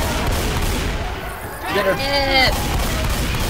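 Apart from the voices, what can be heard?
gunfire shooting at the Tank in the video game Left 4 Dead 2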